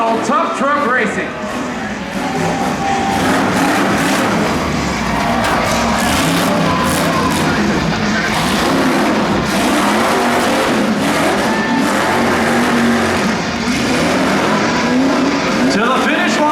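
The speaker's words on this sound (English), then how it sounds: "No hold bar, full throttle tough truck racing." Tough trucks race full throttle on a county fair dirt track, engines roaring continuously at high volume with a crowd and an announcer talking underneath.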